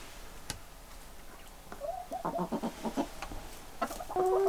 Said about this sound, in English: There's my one rooster. Has to do all the protecting.